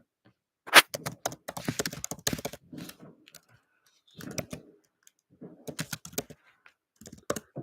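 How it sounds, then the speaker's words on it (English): Close computer keyboard typing in irregular bursts of quick clicks, separated by brief silent pauses, with no talking. "Let me type anyways,"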